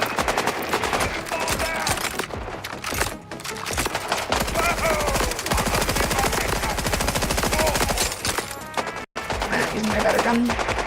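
Rapid, dense bursts of video game gunfire, including shotgun blasts, run nearly nonstop and loud with a brief break, mixed with game sounds and a speaking voice.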